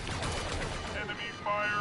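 Blaster fire from the sci-fi shooter game Star Wars Battlefront, a dense rattling fusillade running continuously under game voice announcements, with a brighter electronic whine rising near the end.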